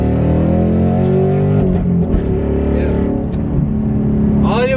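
A 2024+ Ford Mustang accelerates hard in second gear, its engine roaring loud and close with a steadily rising pitch, then a quick shift and a brief pop near the end.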